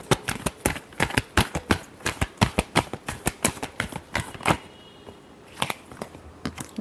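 Tarot cards shuffled by hand before a reading: a rapid run of crisp, close flicking taps that stops briefly, then resumes with a few final snaps.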